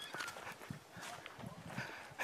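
Two horses, a Paint Quarter Horse and a mare, walking out, their hooves clip-clopping in an irregular, uneven rhythm at close range, with a louder knock at the very end.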